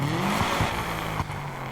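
Subaru Impreza WRX STI, modified, in the racing game Need for Speed Heat, its engine revving hard with rising tonal pitch, brief drops and a gear-shift blip, loud and close with no talk.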